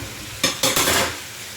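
Ampalaya con pork being stirred in a frying pan, a few quick scraping stirs over a soft background sizzle, close and brief with no talking.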